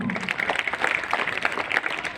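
Schoolchildren clap in a classroom quiz session at a school assembly, an uneven, moderately loud patter of many small hands continuing steadily throughout.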